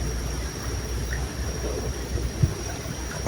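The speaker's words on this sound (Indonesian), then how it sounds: "Datang angin kuat ini, angin kuat sekali." Strong wind roars in a steady, broad rush with faint gusting rumble, close to the microphone and continuous throughout, no voices.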